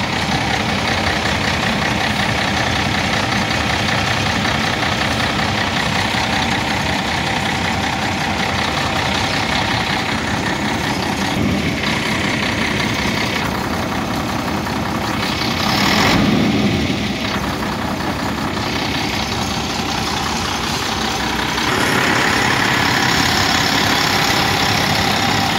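An Ikarus E95 bus engine idles steadily for the whole stretch, a loud continuous diesel rumble with slight swells in level, no voices present.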